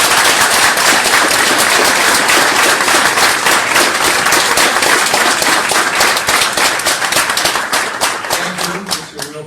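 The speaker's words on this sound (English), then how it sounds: "let's welcome Yaron Brook with our warmest applause" Sustained, loud applause from a lecture audience welcoming a speaker on a rainy night, dense overlapping claps holding steady for several seconds before thinning out toward the end.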